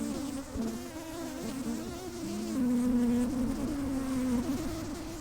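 Honey bees in a collected swarm buzz as they fan their wings, a dense continuous hum from many insects close by, wavering slightly in pitch and strength.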